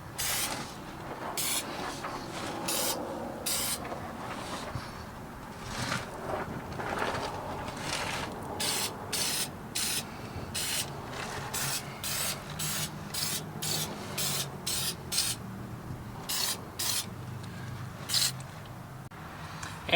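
Short repeated hissing bursts of spray lubricant aimed at a trailer's leaf spring suspension, equalizer and hanger, close and steady, with brief pauses between sprays and no talking.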